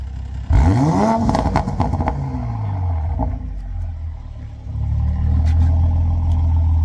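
Toyota GR Supra with an HKS dual muffler, valve open, revs hard once: a loud, close burst of rising engine roar that falls back, followed by a steady exhaust rumble that swells again toward the end.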